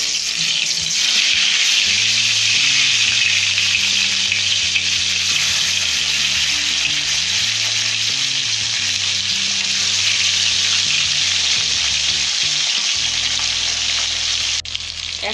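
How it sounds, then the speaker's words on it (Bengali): Pabda fish fry in hot mustard oil, placed in one piece at a time, making a loud, continuous close sizzle over a faint low hum that cuts out briefly at the end. "আমি মাছগুলো ছেড়ে দিচ্ছি একটা একটা করে।"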